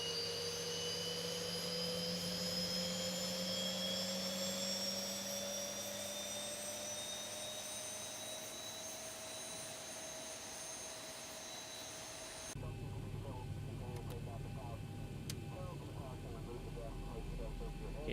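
Airliner engines in a flight simulator game whine steadily while the plane taxis out, with a rising tone over a low rumble. A voice talks over the engines throughout, and the sound shifts abruptly near the end.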